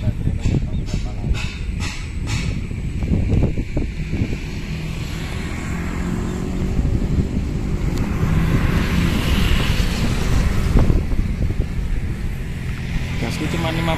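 An electric RC trainer airplane in flight, heard as a steady motor whine and airy hiss that rises and falls as it passes, with wind noise outdoors.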